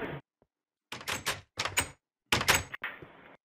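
Doors opening and closing in Minecraft, sounding as a quick run of sharp wooden clunks and creaks in separate bursts with short silent gaps between.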